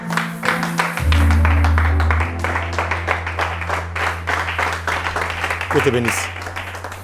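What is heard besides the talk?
church congregation applauding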